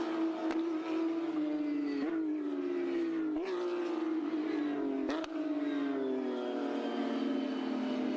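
Porsche Carrera Cup race cars peel off into the pits after the race at Zhuhai, engines droning and shifting pitch with several gear-change dips, a continuous fairly distant roar.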